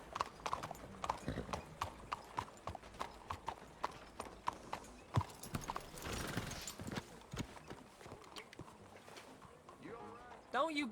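Horse hooves clip-clop at a steady trotting rhythm in the Red Dead Redemption 2 video game, crisp repeated hoof strikes close by, with a brief whinny and a voice talking over parts of it.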